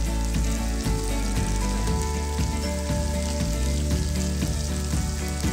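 Green chillies frying in oil in a pan, a loud dense sizzle with crackling pops and stirring scrapes, close and steady throughout, no talking.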